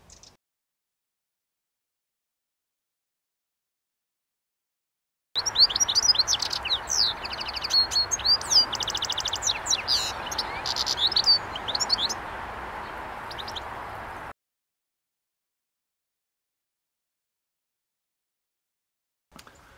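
Goldfinches chirp in quick high twittering bursts for about nine seconds over a soft outdoor hiss, fairly near and alone, with silence before and after.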